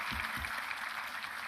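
Audience applause fills a convocation hall for a graduating class, a steady dense wash of clapping that holds evenly throughout at moderate level.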